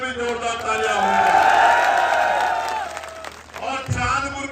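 A crowd at a brotherhood rally in Jalilpur, Chandpur, Bijnor, breaks into sustained loud applause and cheering that swells and holds for several seconds, then tapers off.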